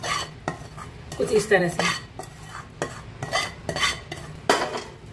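Cooled pickle masala mixed into raw mango pieces with a spoon, giving repeated close scraping and clinking strokes in an uneven rhythm, with a brief spoken phrase near the start.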